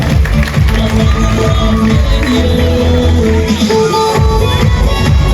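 Crowd at a childhood friends' reunion gathering claps and cheers, a dense continuous wash of applause with scattered whoops and murmuring voices throughout.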